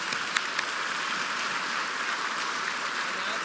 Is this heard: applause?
yes